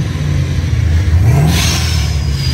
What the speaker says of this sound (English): Y'all listen to this Mustang